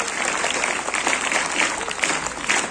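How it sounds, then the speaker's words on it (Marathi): A crowd at a school annual sports event claps together in unison, a loud, continuous wash of applause that holds steady for a few seconds. "एका सुरात टाळ्या, जोरात पुन्हा एकदा स्वागत।"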